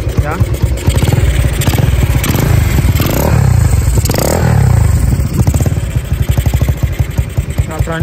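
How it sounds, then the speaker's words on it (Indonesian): A Honda CB motorcycle engine revs hard, loud and close, rising and falling in surges over a rough idle, with someone talking over it. "Coba kita geber ya."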